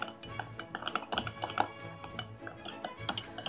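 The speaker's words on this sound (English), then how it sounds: "I'm just gonna use the back of my measuring and just stir it up here" A metal measuring spoon stirs salt and dried herbs for homemade Italian salad dressing, making rapid irregular clinks and scrapes against the bowl, close and fairly quiet, with no voices.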